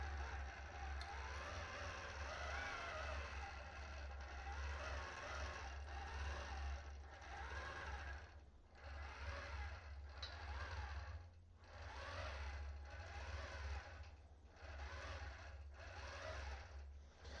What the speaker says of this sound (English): The machine will begin to take its tie-off stitches.